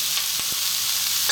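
Chicken vegetable stir fry with green peas and cauliflower sizzling in a pan, a constant hiss broken by two quick spoon scrapes and a clank near the end.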